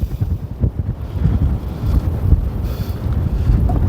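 Strong wind gusting across a winter carp fishing lake in Shropshire, loud buffeting roar against the microphone with a constant low rumble and no speech.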